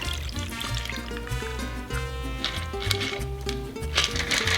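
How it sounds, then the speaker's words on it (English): A margarita is poured from a shaker into a glass, a steady close liquid pour running for several seconds over background music. "We pour that into our glass."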